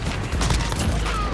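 Explosive blasts and gunfire from a Call of Duty: Modern Warfare multiplayer match, with a claymore mine detonating; dense, loud, continuous booming with no clear gaps.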